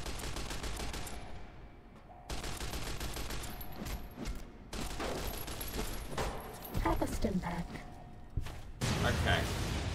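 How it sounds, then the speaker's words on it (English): Shoulder-mounted machine gun firing in Fallout: New Vegas, rapid bursts of gunfire with booms between pauses, loud and dense, mixed with game effects and a voice talking over it. "Got a shoulder-mounted machine gun."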